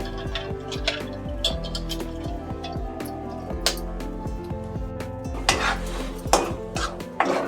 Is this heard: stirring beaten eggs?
yes